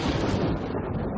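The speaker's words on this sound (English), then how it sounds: "It's thundering outside." A short, deep rumble of thunder from outside, a loud low roar that fades within about a second, with no voices.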